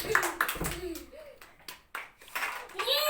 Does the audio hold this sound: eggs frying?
no